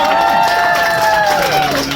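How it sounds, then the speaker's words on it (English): A bar comedy club crowd claps, cheers and whoops loudly and close for a couple of seconds, with sustained shouted voices riding over the applause. "One more round of applause."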